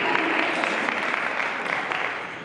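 A church congregation claps for a guest preacher's family, a warm, even patter of applause that holds steady and fades slightly toward the end.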